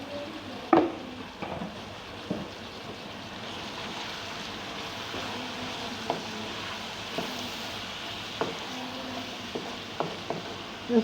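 Onions and spices fry in a pan for an onion and egg bhujia, giving a soft steady sizzle broken by occasional sharp clinks and scrapes of a stirring spoon.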